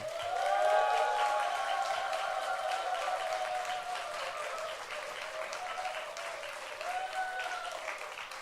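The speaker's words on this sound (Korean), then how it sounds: "우리 목사님 나오실 때 박수로 환영합니다" A church congregation applauds to welcome the pastor, a full, sustained wash of clapping that stays loud and steady throughout, with a faint voice or tone beneath.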